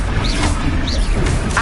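In Hogwarts Legacy, the Confringo fire spell is cast in combat, giving a brief, loud burst of crackling, whooshing impact effects layered over busy game noise.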